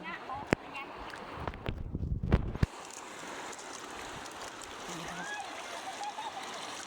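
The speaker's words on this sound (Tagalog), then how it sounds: "Tawid-tawid kami sa ilog." Water splashes and sloshes as someone wades across a cold river with clean, non-slippery rocks, with a few sharp knocks early on, then a steady babble of flowing water.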